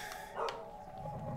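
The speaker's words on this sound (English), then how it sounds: "I hear a doggy." A dog barks a single time in the Prince of Persia: The Sands of Time video game, heard as a short, faint bark over a steady background ambience.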